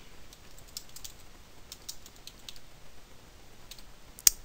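Typing on a computer keyboard while working in Adobe Photoshop, heard as quiet scattered key clicks in uneven bursts, with one sharper louder click near the end and no talking.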